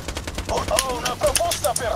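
Automatic gunfire in the video game Borderlands 2, rapid bursts of shots over about two seconds while someone speaks over them.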